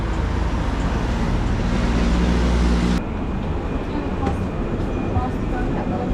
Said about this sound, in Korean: 트램이든 버스든 오는 대로 그냥 타고 갈게요